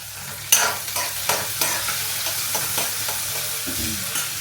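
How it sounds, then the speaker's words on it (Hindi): Chopped capsicum is stir-fried in a hot pan while poha is being made, with a continuous sizzle broken by repeated scraping stirs of a spoon, close and loud, with no talking. "पहले मैंने शिमला मिर्च डाल दी,"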